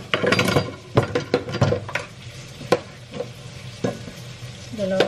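Garlic and onion frying in cooking oil for Filipino adobo, a steady sizzle broken by loud stirring knocks and utensil clatter against the pan.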